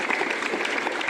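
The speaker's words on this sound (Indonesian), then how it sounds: "Tepuk tangan dulu" A brief burst of applause from an assembled crowd at a school gathering, dense hand clapping that holds steady for about a second.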